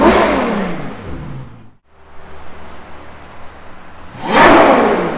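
A warm Ferrari 812 GTS revs loudly close by, a deep engine roar that drops off briefly to a low idle before surging again into a sharp, high-pitched blip near the end.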